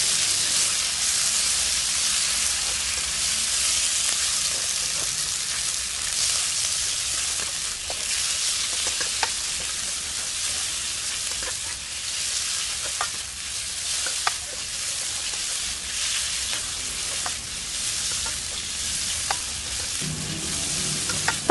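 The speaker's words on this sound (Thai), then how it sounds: "จากนั้นเราก็ใส่เนื้อหมูลงไปขั้นตอนนี้เดี๋ยวเราก็จะผัดไปจนกว่าเนื้อหมูจะสุกค่ะ" Pork stir-frying with garlic in a pan, a long steady hissing sizzle with intermittent spatula scrapes and taps at a moderate level, no voices.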